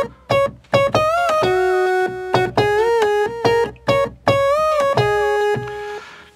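A trance synth lead built on a Studiologic Sledge to recreate a trance riff, a guitar-derived processed tone. It plays short plucked notes and longer sustained notes with pitch bends in a rhythmic phrase, loud and alone with no voices.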